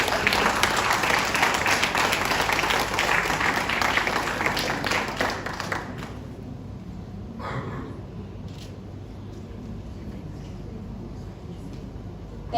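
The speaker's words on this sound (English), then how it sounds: "Can we give a round of applause, please?" Audience applause at an empowerment event for Indian single mothers, a dense, steady wash of clapping for about six seconds that then thins into quieter scattered claps and room noise.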